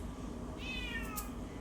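A cat gives a single faint, drawn-out meow that falls in pitch, heard over a steady background hum.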